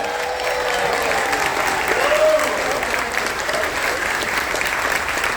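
Passengers aboard the Carnival Dream cruise ship clap and cheer for Coast Guard personnel during a military appreciation event. The applause is a steady, moderately loud wash of many hands, with faint voices and a stray whistle mixed in.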